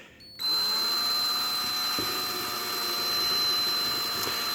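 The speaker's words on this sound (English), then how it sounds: "A hook nail in a portable drill." A portable drill spins a hook nail to twist tie wire on a solar water heater panel, giving a close, steady high whine that starts abruptly and runs without a break.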